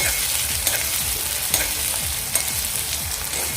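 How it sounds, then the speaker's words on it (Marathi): Chapati chivda with onion and curry leaves frying in hot oil with mustard seeds, a loud steady sizzle broken by quick, repeated scraping strokes of a spoon stirring in the pan, with no voices. "आता हे आपण व्यवस्थित मिक्स करायचं"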